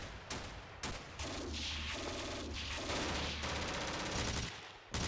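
Bursts of machine gun fire in the WWII tactical game Steel Panthers, a .50 caliber and .30 caliber guns, rattling in loud sustained volleys separated by short gaps.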